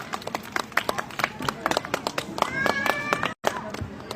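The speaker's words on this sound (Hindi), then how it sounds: "बहुत जोरदार तालियां।" A crowd at an outdoor political rally in Faridabad claps in bursts of uneven, separate claps, with some voices and a brief tone mixed in before a sudden short cut-off.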